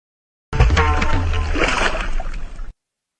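Water splashes and sloshes over a stone deity idol outdoors, a loud gushing burst lasting about two seconds, ending abruptly.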